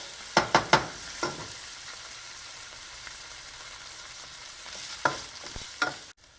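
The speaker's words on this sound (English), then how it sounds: "So let's give it a good stir." Puttanesca sauce frying in a pan, with a few sharp scraping stir strokes near the start and again near the end over a faint, steady sizzle.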